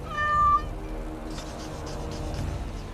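A cat in the video game Dragon Age: Awakening gives one clear, close meow at the start, followed by quieter game ambience.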